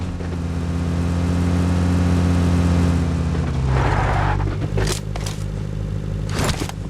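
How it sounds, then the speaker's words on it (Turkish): A car engine in the game PUBG Mobile drones steadily with a low rumble, then rises into a brief revving push, followed by scraping bursts near the end. "Buralarda bir araba sesi duyar gibi oldum"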